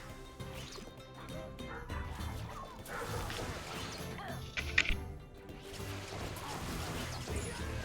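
Dogs barking indoors at a moderate distance, a scattered series of barks and yips over a muffled, noisy background.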